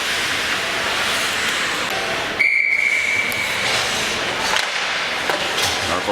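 Referee's whistle at a Dorchester versus Norfolk under-18 ice hockey game, a single sharp shrill blast of about a second heard over the steady roar of the arena crowd and rink noise.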